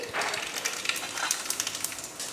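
Mustard seeds crackle and pop in hot oil, a close, quiet sizzle with quick irregular spits throughout.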